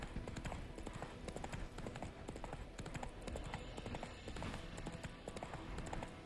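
Horse hooves clip-clop steadily in The Witcher 3 video game, a continuous rhythmic trotting that stays fairly loud and close over ambient game sound.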